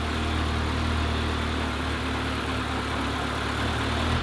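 Ferrari 360 Spider engine with fuel leaking from the left exhaust, running at a steady, continuous idle, loud and close with a constant low rumble and no voices over it.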